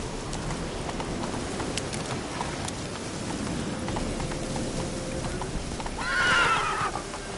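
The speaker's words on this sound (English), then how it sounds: "Come on, Roach. Faster" Horse in a PS4 video game galloping with steady clip-clop hoofbeats throughout, then letting out a loud whinny near the end, no talk over it.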